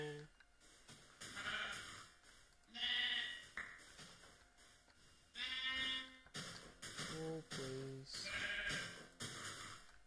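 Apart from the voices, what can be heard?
sheep bleating in Minecraft video game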